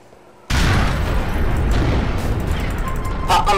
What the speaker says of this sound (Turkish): Patlama sesini şimdiden duymuş oldunuz